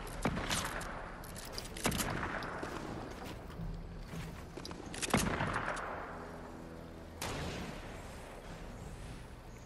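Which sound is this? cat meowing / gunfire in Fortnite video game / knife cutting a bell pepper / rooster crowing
gunfire in Fortnite video game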